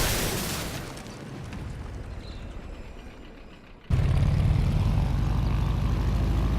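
A Stearman tail-dragger propeller plane taxis in Microsoft Flight Simulator, giving a steady droning engine roar that eases slightly, then jumps abruptly louder partway through and holds as a heavy, constant rumble with no talking.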